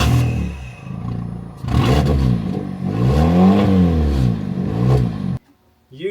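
A Ford Ka Mk2 with a bad exhaust revs loudly and close by, its engine note rising and falling in several throaty, rattling surges before cutting off abruptly near the end.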